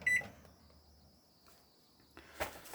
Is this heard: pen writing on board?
no